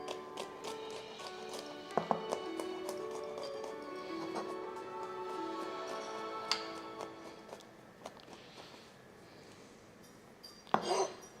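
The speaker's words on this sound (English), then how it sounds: "it tells me to mince the garlic, which I'm going to do now" Fresh garlic being minced with a knife, a run of quick, light taps on a board at close range, irregular in rhythm, with a louder knock near the end.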